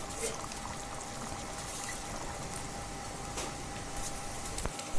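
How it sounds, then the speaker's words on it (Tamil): Kilakarai-style dry fish curry bubbles in a pot on the stove, a steady close hiss and simmer throughout with no distinct pauses. "இதை கொஞ்சம் கொதிக்க விட்டுட்டு இறக்கிடலாம்"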